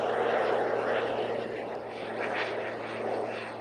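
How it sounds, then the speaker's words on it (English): A plane passes overhead as a steady, broad engine rumble that swells slightly and then eases across a few seconds, fairly loud and continuous with no talking. "That's a nice plane again."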